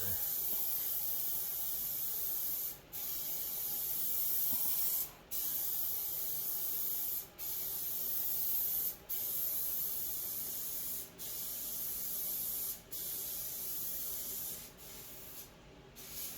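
Long, loud hissing bursts from a spray can applying paint to a car's rear quarter panel, repeated about eight times with brief pauses between, close up and steady in each pass.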